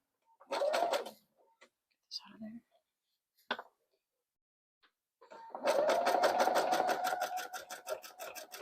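A home sewing machine stitching fabric for a jelly roll rug, running in a short burst, then after a pause whirring steadily for several seconds in a rapid mechanical rhythm, close up with light handling noises between.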